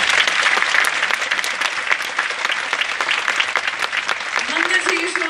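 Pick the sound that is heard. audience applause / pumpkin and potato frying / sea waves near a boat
audience applause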